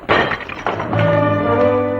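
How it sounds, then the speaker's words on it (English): Glass breaks with a sharp crash, then a ringing tail of pieces settling and resonating for about two seconds, loud and close. "Nobody's got any use for broken glass."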